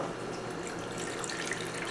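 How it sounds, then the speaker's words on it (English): Water poured from a tap or jug into a bowl holding a ball of tamarind, a steady, close splashing and trickling stream that runs throughout without a break. "Add some water."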